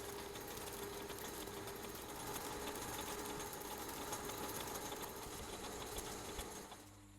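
A lathe machines a brake drum with a steady, continuous metallic whir and hum at moderate level, easing off just before the end.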